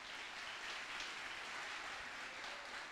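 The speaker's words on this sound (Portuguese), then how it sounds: "Vamos dar uma salva de palmas para Jesus, que Ele merece." A church congregation at a celebration service applauding together, a steady, dense wash of many hands clapping heard from a distance, fairly faint and even throughout.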